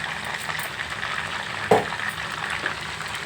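Onion paste frying in a pan for chicken masala curry, a steady close sizzle with a brief stirring scrape partway through, no voices.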